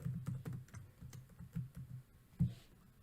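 Fingers tap steadily on a computer keyboard while coding in Java, producing a quick run of close, soft key clicks with uneven spacing.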